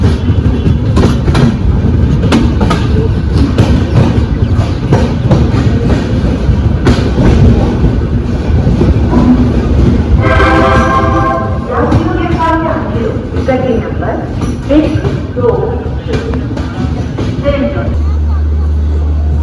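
Swarna Shatabdi Express passenger train 12030 on the Amritsar to Delhi run, with a steady loud rumble and repeated clickety-clack of wheels over rail joints throughout, and faint cabin voices and babble underneath.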